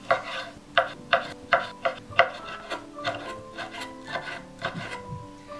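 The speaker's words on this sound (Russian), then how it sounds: "Нарезаем на небольшие кусочки." A knife chops soft, washed and towel-dried prunes into small pieces on a board, making a steady series of light, crisp taps that slow and soften toward the end.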